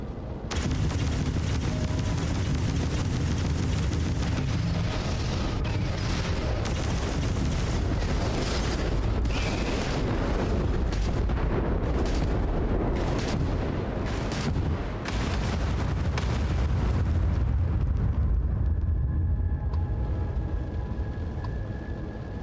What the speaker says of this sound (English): Can I just shoot some asteroids?